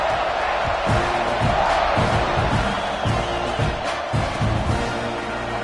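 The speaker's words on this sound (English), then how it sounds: "this crowd is buzzing after that last score" A stadium crowd at a football game fills the air with a loud, continuous roar and murmur after a score, with a commentator talking over it throughout.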